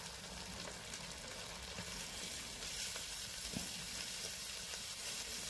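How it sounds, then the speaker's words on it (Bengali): Ground cumin paste, coriander, turmeric and green chillies fry in oil in a pan, giving a steady, quiet sizzle with faint stirring scrapes throughout, no talk. "মশলাটা খুব ভালো করে ভাজবো।"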